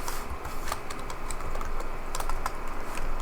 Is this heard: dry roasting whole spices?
no